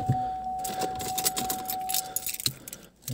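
Keys jangling repeatedly and close by, a bunch of several car keys rattling in bursts at a car lot where a 2012 Opel Insignia OPC 2.0 bi-turbo is for sale, with a steady whine underneath.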